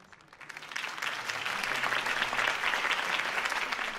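Steady applause from a sizable crowd in a video game, building up over the first second and then holding dense and loud, with no talking over it.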